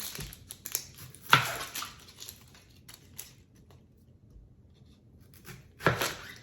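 Knife chopping an onion on a board in a home kitchen while chicken fajitas are made. Two distinct, fairly loud cuts are spaced a few seconds apart, with faint scraping and quiet handling between them.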